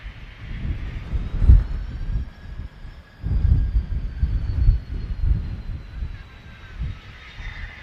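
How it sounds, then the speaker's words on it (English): A large airliner at Manchester Airport roars past while landing and crabbing into a strong northwest wind, loud and near, with gusty wind rumble surging and fading. "See the aircraft crabbing into the wind there."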